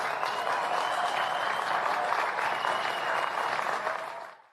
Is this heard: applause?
yes